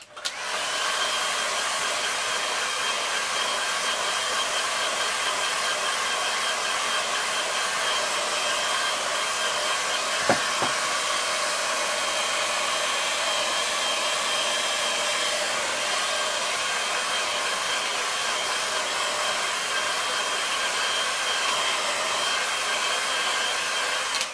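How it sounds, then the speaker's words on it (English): A hair dryer blows steadily on a watercolour painting, giving a loud, unbroken airy roar for the full length with one faint click partway through and no talking. "Now give that a quick dry."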